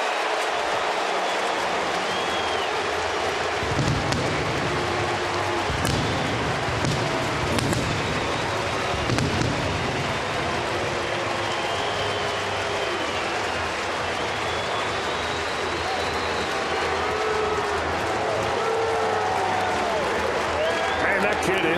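A big baseball crowd at Great American Ballpark in Cincinnati roars and cheers continuously through a Pirates–Reds game, with a broadcaster talking over the noise.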